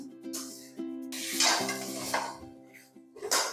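Semolina and sugar roast in a pan while a spoon scrapes and stirs it in short irregular strokes, with a faint sizzle and a steady tonal hum running underneath.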